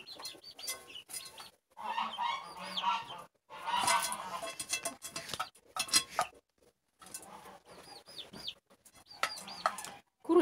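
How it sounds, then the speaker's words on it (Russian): Poultry in a greenhouse yard, a hen clucking and scratching among goslings, with repeated honks and clucks in irregular bursts near the microphone and brief quiet gaps. "Курочка гребет, как всегда,"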